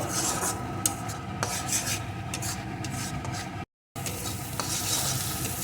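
Spice paste with Kashmiri chilli powder being sautéed for a prawn malai curry, a steady sizzle under continuous rasping spatula strokes across the pan, close and fairly loud, with a brief gap of silence partway.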